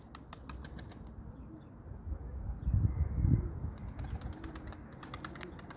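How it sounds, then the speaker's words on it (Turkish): A single pigeon's wings flap in a burst of flutter, swelling louder for a moment then fading, over steady low outdoor rumble with faint chirps. "Kuşumuz tek de uçuyor şu anda."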